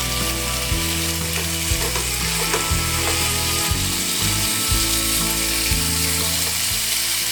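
Half a pound of lean ground beef, broken into chunks, browns in a hot pan with a loud, constant sizzle, while repeated scraping and stirring strokes clatter through it in an uneven rhythm.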